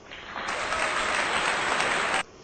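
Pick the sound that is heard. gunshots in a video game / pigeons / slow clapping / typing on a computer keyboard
slow clapping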